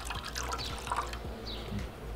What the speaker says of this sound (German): Da gießen wir auch noch einen kleinen Schluck rein.